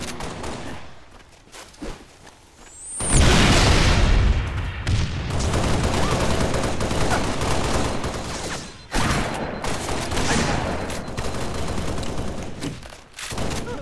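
Shotgun blasts from Halo: Reach ring out in a loud cluster, heavy booming reports following quick pumps amid chaotic multiplayer combat, with bursts fading and returning across the span.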